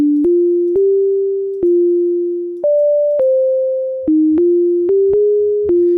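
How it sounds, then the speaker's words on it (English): A modular synth in Caustic 3 plays a sine wave note sequence, each stepped pitch change marked by a sharp click as the envelope resets harshly, a clean electronic tone with about a dozen clicks in a few seconds. "You can hear the kind of clicking that happens. That's because the envelope is being reset very harshly"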